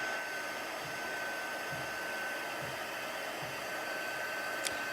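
A heat embossing tool on its level 2 setting blows hot air in a steady, continuous roar, loud and unbroken for the whole stretch, with a faint high whine running through it and no talking over it.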